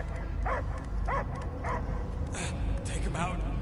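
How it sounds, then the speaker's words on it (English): A dog barks and yips in short repeated bursts at moderate distance, over a low rumbling background. "I hear only barking"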